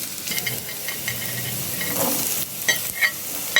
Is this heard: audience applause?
no